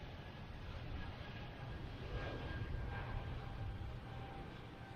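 JetBlue airliner passing at Boston Logan Airport, a faint, distant low engine rumble that swells slightly and fades, heard outdoors with soft background noise.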